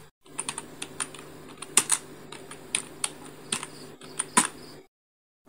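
Computer keyboard typing while setting up a social media post design in Illustrator: a quiet run of irregular clicking keystrokes with a few louder taps, stopping in silence near the end.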